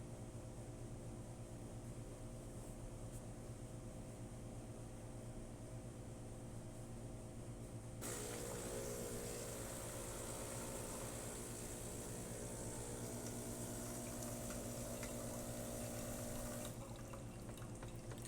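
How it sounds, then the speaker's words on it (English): A Saeco Xelsis espresso machine rinses water out through its spouts, a steady hiss and pour that begins abruptly partway through, running loud and continuous over a low machine hum, then eases slightly near the end. "We're just going to pour a little bit of water out the spouts just to kind of clean them out."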